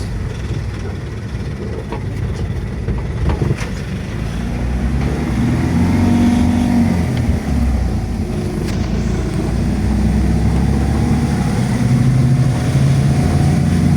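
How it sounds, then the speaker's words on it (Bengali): A car drives along a road: a steady, fairly loud engine and tyre rumble lasts throughout, building slightly after the first few seconds, with light rattles and no voices. "খুব সুন্দরভাবে গাড়ি চালাচ্ছে"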